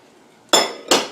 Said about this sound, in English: Just keep mixing it all along.